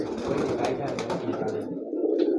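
Pigeons, a flock of kept tournament birds, coo in soft, low, throaty bursts close by over a few seconds, with some background noise mixed in.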